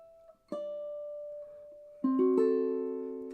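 Plucked and strummed ukulele notes and chords from the Christmas carol Away in a Manger, a single note ringing, then a strum around half a second and fuller chords after two seconds, sustaining and fading, close and clear with no talk.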